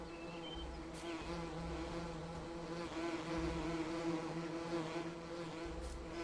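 Game bees swarm around hive boxes in Farming Simulator 19, giving off a constant, even buzzing drone with rich harmonics that holds steady throughout, moderately loud and uninterrupted by voices.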